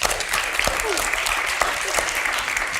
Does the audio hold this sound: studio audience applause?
yes